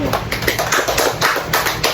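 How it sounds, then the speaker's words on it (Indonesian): Students in a classroom applaud a classmate with dense, continuous clapping that stays steady and fairly close for the whole stretch, with no voices over it. "Oke, tepuk tangan sama Jayanti."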